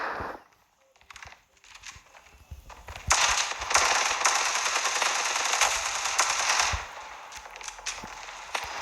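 Sustained automatic gunfire in the Standoff 2 mobile shooter's Arms Race mode: a few scattered shots, then about four seconds of loud, continuous rattling fire before it cuts off and a few isolated pops follow.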